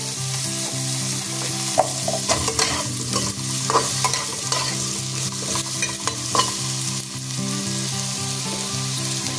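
Potatoes frying in hot oil in a pan, giving a loud continuous sizzle with frequent stirring scrapes and knocks, all close with no voices.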